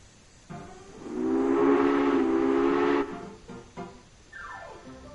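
A steam locomotive whistle in Railway Empire sounds one loud, sustained blast of about two seconds, followed by quieter train noise and a falling tone.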